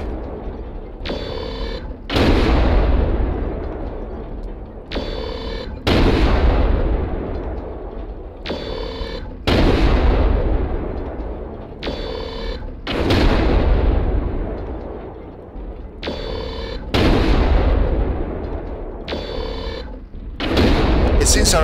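Heavy weapons on an Atlas mech in MechWarrior Online fire in loud repeated volleys, bursts of booming blasts recurring every couple of seconds over a sustained rumble.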